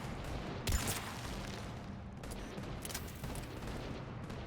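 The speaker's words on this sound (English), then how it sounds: "What are you even shooting at?" Mass Effect 3 combat gunfire, a dense, fairly quiet rattle of distant weapon fire with one sharper burst early on, under a continuous noisy battle ambience and no speech.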